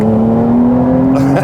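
A Porsche 992 GTS engine revs in Sport Plus mode, a loud, steady, sustained drone that holds across the clip and shifts slightly near the end.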